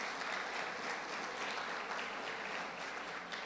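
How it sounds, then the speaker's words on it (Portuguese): Steady applause from a church congregation honoring the volunteers who served, a dense, even wash of clapping that holds at a moderate, constant level for the whole stretch with no voices rising above it. "Vamos dar uma salva de palmas para aqueles que serviram."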